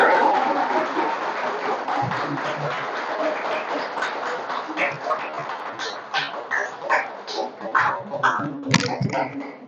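An audience claps in a dense round of applause that thins into scattered claps, while a dog yips and whimpers nearby.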